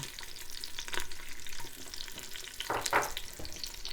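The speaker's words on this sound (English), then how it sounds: "we put the onion in the pan and then just saute that for a couple of moments" Onion and whole garlic cloves sauté in a pan in a close, crackling sizzle, with scraping stirs and one louder burst of frying near the end.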